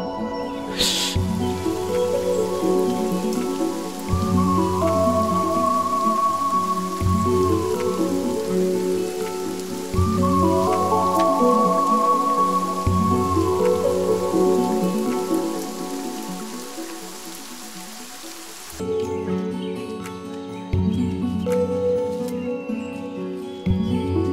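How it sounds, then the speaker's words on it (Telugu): Steady rain falls throughout, a dense patter on a surface, with a musical background rising and falling over it. "వర్షం వచ్చేలా ఉంది, ఇంటికి వెళ్ళిపోదామా?"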